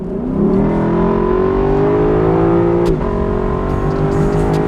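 The naturally aspirated 5-liter V8 of a 2022 Lexus LC500 convertible revs loud and close, its pitch climbing steadily toward the 7,200 RPM redline before a sharp break near the top, then settling into a dense rumble.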